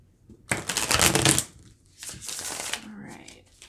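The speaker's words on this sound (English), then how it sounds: "I'm going to shuffle this way right now." Tarot cards shuffled by hand at close range, two quick bursts of crisp riffling separated by a short pause, with a softer rustle trailing after.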